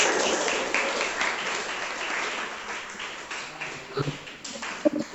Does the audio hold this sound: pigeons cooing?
no